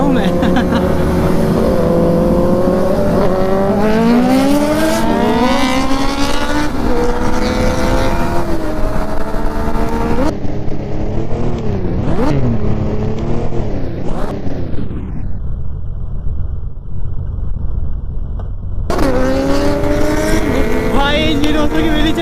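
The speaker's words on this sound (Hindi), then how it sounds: "150 सीसी लेके सुपर बाइक के साथ रेस लगाता हूँ" A 150cc motorcycle races a superbike on a highway with loud, close engine whine. Pitch sweeps upward through gear changes and revs, then drops away to a thinner drone before the roar returns.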